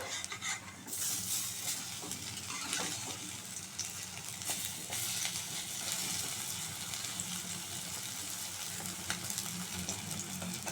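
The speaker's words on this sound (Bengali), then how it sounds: "ডালের বড়াগুলো আমার লাল লাল করে ভাজা হয়ে গেছে" Lentil fritters (dal bora) fry steadily in hot oil, a dense continuous sizzle with occasional clinks of a utensil against the pan.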